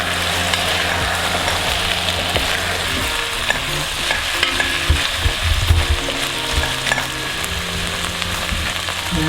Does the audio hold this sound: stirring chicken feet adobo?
yes